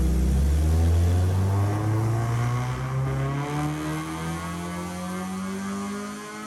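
A K-swapped 1993 Honda Civic CX pulls hard in third gear on a dyno toward 8,450 RPM, the engine note rising steadily in pitch and staying loud and close, with no talking.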